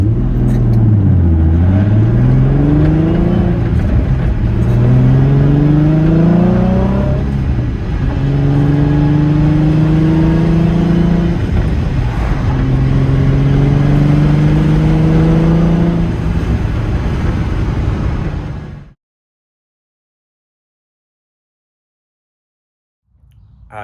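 A Nissan 350Z drift car driving on the road, its loud engine rising and falling through several rev sweeps as it accelerates and shifts, then cutting off abruptly into silence.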